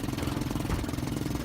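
A 1954 Johnson 5.5 hp outboard motor idles at low speed on a fishing boat, giving a steady, rough, rapid putter that stays close, loud and continuous with no voices.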